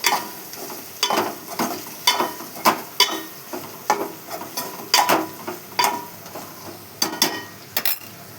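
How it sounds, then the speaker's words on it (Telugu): Chicken is stirred and mixed in a pan with a spoon, giving repeated scraping strokes roughly once a second over a faint sizzle, close and fairly quiet, with no talking. "బాగా మొత్తం మిక్సింగ్ చేసుకోవాలి."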